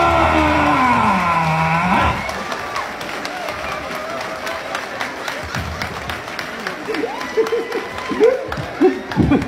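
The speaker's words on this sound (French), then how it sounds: "On va applaudir pour recevoir Boukari de la Côte" A live comedy show audience claps to welcome comedian Boukary on stage in Ouagadougou, a patter of applause from a crowd mixed with voices and talk.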